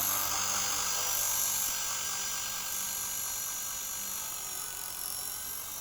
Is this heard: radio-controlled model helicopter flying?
yes